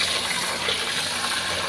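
Water gushes under pressure around a phone held underwater, a steady dense rushing hiss with no pauses over the short stretch.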